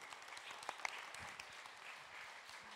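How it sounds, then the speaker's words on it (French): Applause from an audience at a round-table discussion, faint and distant, a soft even patter of clapping with a couple of sharper claps near the start. "j'aimerais d'abord qu'on vous applaudisse déjà"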